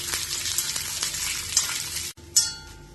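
Steady close sizzling of garlic, dried red chillies and curry leaves in hot oil with light stirring, the frying hiss cutting off briefly near the end before a clink and fading crackle.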